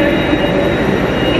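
A Great Western Railway passenger train arrives close by at a small station with a steady, loud roar and a faint high whine, continuous for the whole moment.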